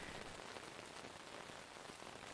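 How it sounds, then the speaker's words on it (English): Rain falling steadily on tent fabric, a dense, even patter close overhead, soft and continuous with no voices. "the sound of the rain changes"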